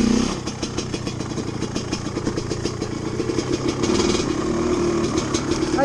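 A dirt bike engine roars nearby as the rider clears an obstacle on an autumn trail in New England. The loud, rough motor runs continuously, with a steady throb that swells slightly over the stretch.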